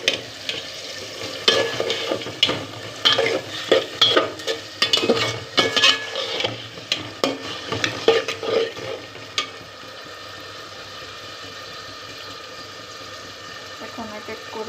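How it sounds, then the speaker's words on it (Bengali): Beef browning in a pan for biryani: a spoon scrapes and clatters rhythmically against the pan for several seconds over sizzling, then only a steady fainter frying hiss is left. "বাদামি হয়ে গেলে মাংসগুলো ছেড়ে দিব।"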